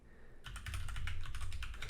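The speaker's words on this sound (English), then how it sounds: "you can also start typing" Typing on a computer keyboard during a network security demo, a fast run of dense, close keystrokes starting after a short quiet gap and continuing steadily to the end, with no voices.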